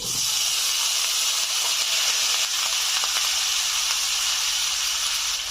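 Cut potatoes and drumstick pieces hiss and sizzle steadily in leftover hot frying oil in a village-style wok, a loud, continuous broadband crackle with no talking.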